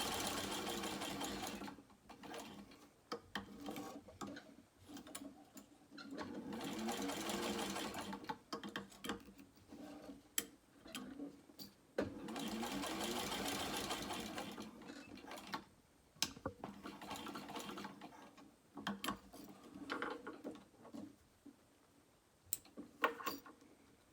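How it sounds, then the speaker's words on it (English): Domestic sewing machine stitching a small crossbody bag, running in several bursts of steady whirring with mechanical ticking and short pauses between runs, close and fairly quiet, with no talk. "now I'm going to sew my X."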